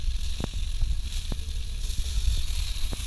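Hilsa fish wrapped in ash gourd leaves fries gently in oil on low heat, a soft continuous sizzle and hiss with a few faint pops, close and steady on its own.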